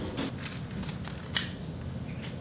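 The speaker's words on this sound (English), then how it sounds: "So the next step's going to be to cut out the lining." Scissors cutting out fabric for a tote bag lining make a few soft snipping strokes and one sharp close snip, quiet and alone with no talk.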